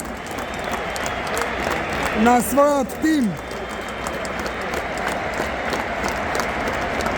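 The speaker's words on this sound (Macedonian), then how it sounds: "Аплаус од навивачите на Шкотска за Дони Страти." Scotland football fans applauding in tribute to Donnie Strachan in a stadium, a broad sustained roar of clapping and crowd noise under a commentator talking, with a brief rising whistle-like tone partway through.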